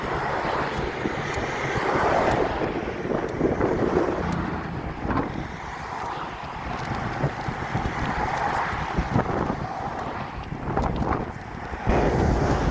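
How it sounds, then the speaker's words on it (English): Strong wind buffets and rumbles continuously while out bicycle touring on a winter day, with gusty roaring swells and no talking. "It's a little windy today."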